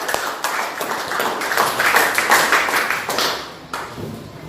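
Classroom applause, students clapping together in a brief burst of dense, overlapping claps lasting several seconds, loud and close, with room noise beneath.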